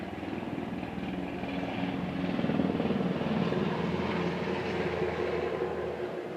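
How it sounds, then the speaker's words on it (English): A helicopter passes overhead, its steady rotor thrum swelling louder in the middle and then holding, alone with no talk. "You might even hear some of them on a helicopter right now."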